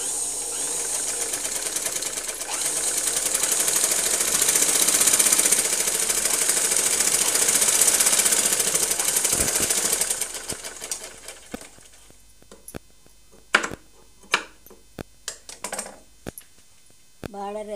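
Sewing machine stitching a border onto a long frock, running as a steady loud rapid whirr for about ten seconds, then stopping and leaving scattered clicks and handling knocks.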